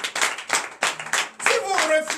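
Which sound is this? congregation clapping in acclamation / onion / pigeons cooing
congregation clapping in acclamation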